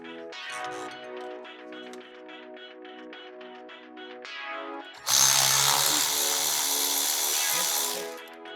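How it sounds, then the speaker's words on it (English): A power tool loosens the two Allen bolts holding the brake rotor on an e9x BMW M3. A tonal motor whine runs first, then a loud, harsh, rattling burst lasts about three seconds before tapering off. "So now we need to take off these 2 Allen bolts to get the rotor off."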